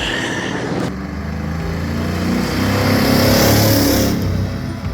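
A 1999 Ford F250 pickup fitted with a glasspack muffler pulls away, its loud, throaty exhaust drone swelling as the engine revs and accelerates, close by and continuous throughout with no talk.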